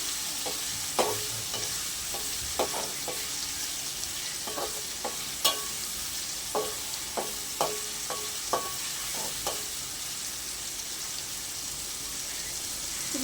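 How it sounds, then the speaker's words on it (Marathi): Paneer cubes for a veg biryani frying in a pan over a high flame give a steady soft sizzle, broken by a series of sharp scraping clinks as a spoon stirs them, with no voices. "गॅसची फ्लेम वाढवून एक दोन मिनिटासाठी आपल्याला याला चालू फ्राय करून घ्यायचं"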